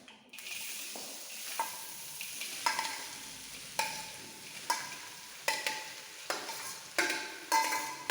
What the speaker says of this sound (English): we are going to add the sliced onion for frying.